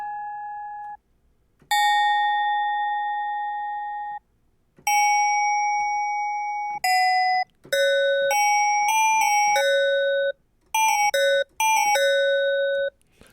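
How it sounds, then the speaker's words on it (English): A synthesized trap bell plays bright chiming notes, first a few long sustained tones and then a quicker melodic run of shorter bell hits, loud and clean with nothing else behind it. "It starts turning into a bell."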